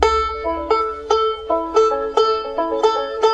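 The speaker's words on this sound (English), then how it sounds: "Start off by finding yourself a banjo sample" Plucked banjo sample looping in FL Studio at a pop-folk tempo around 110 to 115 BPM, bright rolling picked notes over a low pulsing bass, clear and upfront with no voices.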